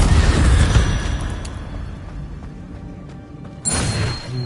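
Incendio fire spell cast in the Hogwarts Legacy video game, a loud whooshing burst that fades away over a few seconds, followed by a sharp new flare near the end.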